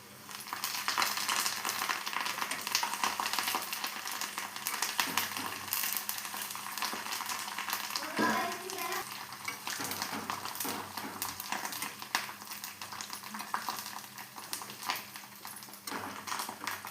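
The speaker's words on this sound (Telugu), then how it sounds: "వెల్లుల్లి వేసి బాగా ఫ్రై చేయాలి." Garlic frying in a pan for a South Indian dish gives a steady, dense sizzle across the whole stretch, with light clicks of stirring and no voices.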